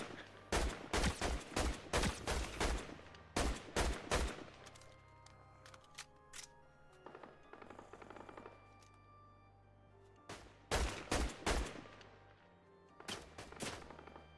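Gunfire in the Fortnite video game comes in several rapid bursts of crackling shots separated by quieter gaps, all fairly faint, with no voices.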